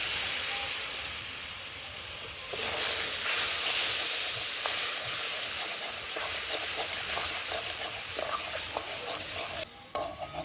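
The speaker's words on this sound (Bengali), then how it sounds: "একটু জল দেব।" Water poured onto a fried spice paste of cumin and coriander in a pan, a loud, close, steady sizzle and hiss that surges and then keeps bubbling, with stirring and no talk.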